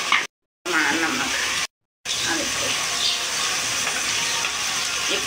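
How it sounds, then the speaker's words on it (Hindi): Masala spices of turmeric and salt fry in a pan with a close, continuous sizzle, cut by two short silent gaps early on. "इनू आप भुन दें मसाला"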